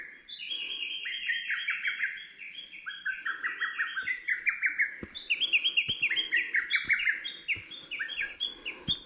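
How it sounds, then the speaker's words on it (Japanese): Birds sing along a fresh-green mountain trail on Mount Ishiwari near Lake Yamanaka, bright overlapping trills and chirps repeating steadily close by, with occasional faint footstep thumps underneath and no talking. "鳥もいい声で鳴いてる。"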